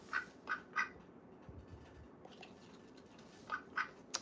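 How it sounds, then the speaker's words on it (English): A pet house duck quacks indoors, giving three quick nasal quacks, a pause, then three more, close by and fairly soft against a quiet room. "She's my house duck."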